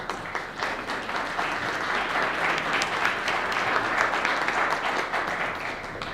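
Audience applause after a talk at a funders' forum, a dense, steady roomful of clapping that holds at full strength for about six seconds without letting up.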